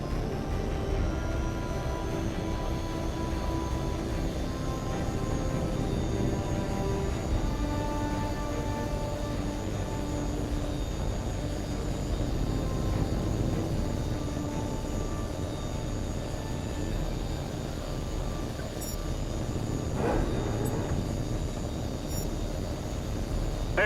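Jet aircraft taking off in the H.A.W.X. 2 flight game: a steady, loud, continuous engine roar with a broad rushing hiss that holds level throughout, with no voices.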